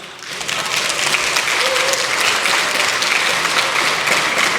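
Loud, dense applause from the People Power Party lawmakers' seats in the National Assembly chamber, many hands clapping continuously after a speech line, building quickly and holding steady.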